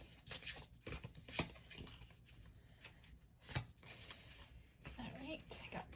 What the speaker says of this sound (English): So let me just do a quick shuffle here.